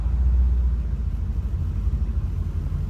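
A 1955 Chevrolet Bel Air with four-wheel disc brakes rumbles low and steady nearby, its engine holding a deep continuous drone throughout with no voices.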